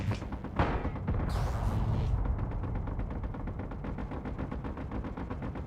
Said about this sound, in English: What is shooting there?